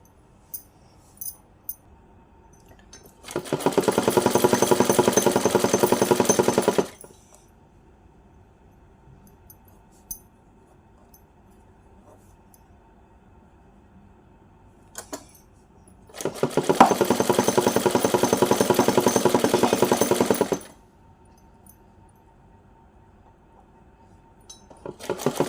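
Two separate bursts of a sewing machine stitching gota patti trim onto a small doll outfit, each a few seconds of fast steady rattling whir, with quiet pauses and faint clicks between.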